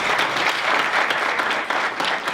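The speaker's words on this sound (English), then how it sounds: "Let's give them a round of applause." An audience at a chamber of commerce multicultural business forum applauds, dense sustained clapping from a room full of people, loud and even for a couple of seconds.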